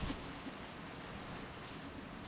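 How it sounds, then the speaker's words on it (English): Rain falls outside on a Florida day, a soft steady wash of patter heard faintly at a distance. "The rain just comes and goes and comes and goes."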